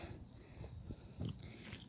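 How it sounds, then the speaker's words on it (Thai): Crickets chirp in a vegetable garden of leafy greens and mustard greens, a steady high-pitched trill that runs throughout alongside soft low background rustle. "สียงจิ้งหรีดก็ ร้องเต็มเลย"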